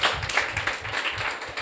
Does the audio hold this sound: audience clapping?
yes